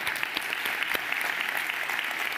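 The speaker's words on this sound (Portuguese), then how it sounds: "Vamos aplaudir a Jesus?" A church congregation claps for Jesus during a sermon, producing a steady, dense burst of many hands clapping, fairly close and continuous for the whole moment, with no talking over it.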